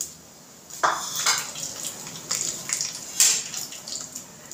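Sliced cashews tipped into a pan for pulao, a cluster of small clattering knocks and rattles as the pieces land, close and moderately loud with a bright metallic edge, then a few lighter taps.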